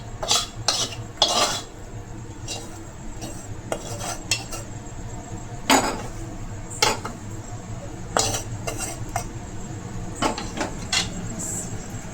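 Flour for momo wrappers being mixed and kneaded in a bowl: repeated scraping, knocking and clattering strokes at an irregular rhythm, close and fairly quiet against low kitchen background noise, with no talking.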